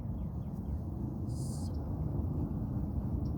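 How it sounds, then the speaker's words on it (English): Faint birds calling outdoors, a few short chirps and one brighter burst of calls over quiet background noise, distant and soft. "I don't know if y'all hear, but those birds in the background."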